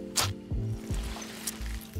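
A small syringe injection in Hunt: Showdown makes a few short, wet squishes and slurps in quick succession, close and moderately loud, over a faint, constant background drone.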